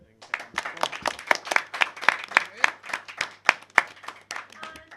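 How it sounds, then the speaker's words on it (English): A crowd at a live tabletop role-playing game event applauds steadily for several seconds, claps bunched close together and loud, then tapering off near the end. "I'm just going to ask for one more round of applause for our player and our GM"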